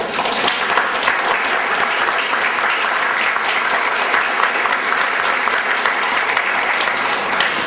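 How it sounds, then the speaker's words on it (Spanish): Loud, continuous applause from a conference audience fills the room, many hands clapping in a steady dense roar with no talk over it. "dos amigos para quien yo quiero pedir un fuerte aplauso son Miguel Salvador Rodríguez Azueta."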